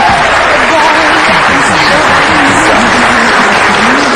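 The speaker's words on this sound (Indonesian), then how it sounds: "tepuk tangan sekali lagi dong" Studio audience of an Indonesian television talk show applauding steadily and loudly throughout, a dense continuous clapping wash from start to finish with no pauses.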